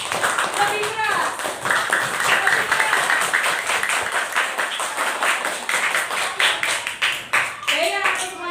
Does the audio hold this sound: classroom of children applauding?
yes